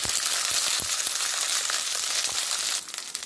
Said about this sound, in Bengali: সিমগুলো ভাজার জন্য তেলের মধ্যে দিয়ে দিলাম